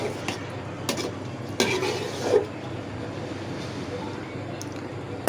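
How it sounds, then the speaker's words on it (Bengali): Pieces of snakehead fish being stirred into a simmering bottle gourd curry in a pan: a soft, steady scraping and shuffling with a few sharp utensil clinks against the pan. "একে একে সবগুলো মাছ দিয়ে সুন্দর করে নাড়াচাড়া করে নেব"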